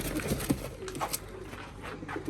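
Pigeons coo nearby in a loft, their soft, throaty calls overlapping in an irregular rhythm against a low background hum.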